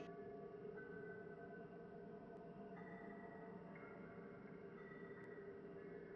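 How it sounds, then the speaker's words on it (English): A road-working train in the Fatal Frame 4 game sounds an odd, wavering horn. Sustained tonal notes step up and down over a steady rumble of rail noise, continuous and moderately distant, with no talking. "It's like, I guess, a road working train or something like that. Just had an odd horn to it."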